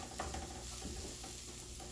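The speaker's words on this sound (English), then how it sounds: "you have to stir it" A spoon stirring mushroom risotto in a pot, soft steady scraping and gentle bubbling heard faintly and alone, with no voices.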